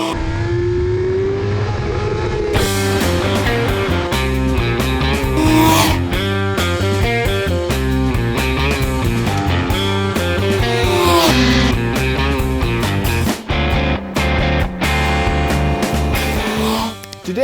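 A 2017 Suzuki GSX-R1000R sport motorcycle engine roars continuously while being ridden, loud and close, its pitch rising and falling through repeated gear changes and revs.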